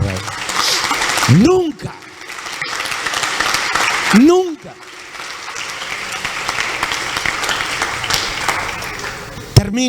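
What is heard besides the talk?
congregation applauding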